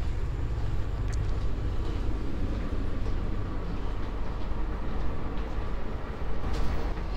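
A Jaka Tingkir economy train carriage on the Solo to Jakarta line rumbles steadily, with a continuous low roar of wheels and rail noise and faint occasional clicks. No one speaks.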